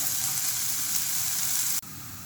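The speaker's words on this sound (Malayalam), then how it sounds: "ഉള്ളി വഴറ്റി കഴിഞ്ഞു ഇനി കരിയാപ്പില ഇട്ട് കൊടുക്കാം" Onions sauté in a pan for a pumpkin-leaf thoran, a constant bright hissing sizzle that cuts off abruptly near the end and then drops to a quieter, thinner hiss.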